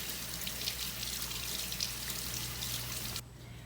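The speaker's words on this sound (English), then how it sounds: "So we're going to turn the water on. We're going to let the water run for at least 20 seconds." Water runs from a tap for hand washing in a constant splashing hiss that cuts off abruptly near the end.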